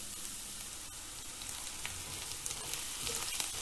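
Garlic frying on low heat in about two tablespoons of leftover oil from frying paneer, giving a soft, even, continuous sizzle with faint crackles, quiet and close with no talking.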